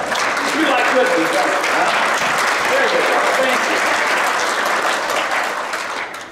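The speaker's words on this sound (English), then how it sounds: "Please clap. Let's clap." Sustained audience applause fills a church-like gathering, loud and steady clapping that gradually fades toward the end, with no speech over it.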